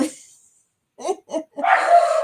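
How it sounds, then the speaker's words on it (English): A puppy barks indoors, several short sharp yips in quick succession, close and loud, with a person talking briefly before them. "Sorry, y'all, for the puppy."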